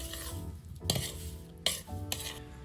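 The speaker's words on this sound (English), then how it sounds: "I'm going to mix that around until I know that all the pineapple chunks are kind of covered with the flour and the sugar" Pineapple chunks are stirred through flour and sugar for an outdoor pineapple casserole, making a few close, gloopy scraping strokes with spoon-on-bowl clatter between short pauses.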